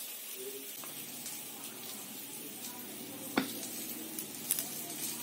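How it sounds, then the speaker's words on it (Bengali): Potatoes for a meat curry frying in oil, a steady soft sizzle with light stirring clatter and a couple of sharp utensil knocks, heard close up. "মাংসের আলুটা বেজে নিচ্ছে বন্ধুরা, বসে দিয়েছি, তার শব্দ আসছে।"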